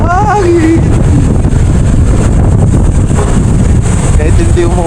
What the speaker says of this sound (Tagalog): Ano, malamig na hangin.